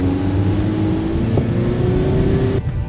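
Volkswagen ID. Buzz and Transporter accelerating on snow, a loud, close, steady engine and drivetrain drone with a rising tonal whine and a brief shift-like break near the end, with no talking.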